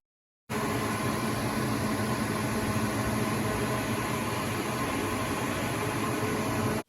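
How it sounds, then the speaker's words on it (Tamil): A Bajaj PMH 25 DLX air cooler motor switches on after a brief silence and runs with a steady, loud whooshing hum and fan noise that doesn't change. "ஆனால் நாய்ஸ் பார்த்திங்கன்னா மோட்டரோட நாய்ஸ் அப்படிங்கிறது கொஞ்சம் வெளியில் கேட்குது."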